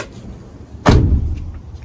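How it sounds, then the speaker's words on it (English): The door of a Nissan NV2500 high-roof van shuts with a single close, solid thud, followed by a short low rumble. "Let me close this door here."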